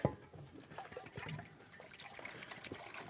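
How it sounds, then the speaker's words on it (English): Water is poured into a bowl as a drink for a dog aboard a boat, a soft splashing and trickling that runs close and fairly quiet for a few seconds, with no voices. "Let's get you a drink of water."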